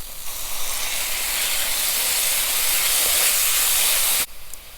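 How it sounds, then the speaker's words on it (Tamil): Chopped fenugreek leaves tipped into a pan of frying onions set off a loud, steady sizzling hiss that holds for about four seconds, then drops abruptly to a quieter crackle. "இப்போ அந்த வெந்தயக்கீரையை ஆட் பண்ணுறேன்"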